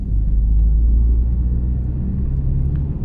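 An Opel Zafira 1.6 with 101 PS drives in third gear, its engine a loud, steady low rumble heard from inside the cabin, holding an even drone for a few seconds with no talking.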